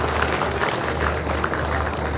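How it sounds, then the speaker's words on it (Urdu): A seminar hall audience claps for itself in steady, dense applause that holds without a break, with faint crowd murmur beneath. "ایک دفعہ اپنے لیے تالیاں بجا دیں"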